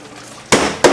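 Two sharp pops a third of a second apart as the lid of a jar of Goya Sofrito is twisted loose in a kitchen, each a loud, abrupt crack.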